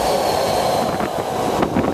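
A BART green line train approaches on the Fremont–Daly City route with a steady loud rumble of rolling wheels and faint rail squeal, growing near with no talk.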